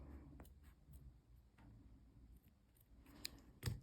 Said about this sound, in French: vous pouvez vous aider de petits ciseaux pour couper le reste